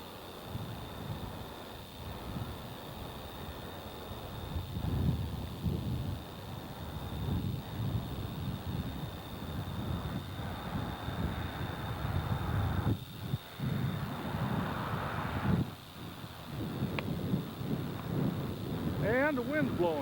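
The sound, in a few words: wind blowing in an Alaskan canyon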